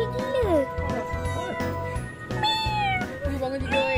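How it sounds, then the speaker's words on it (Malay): A cat meows several times in rising and falling cries at a seaside picnic outing in Port Dickson, fairly close, with people talking throughout. "Kucing ni comel lah."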